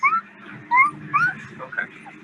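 Puppies whimper in short, high, thin whines, several quick cries spaced irregularly and close by, with soft voices in the background.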